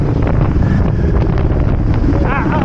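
Strong wind roars steadily across the microphone, a loud, constant rumbling buffet with a faint voice briefly audible beneath it.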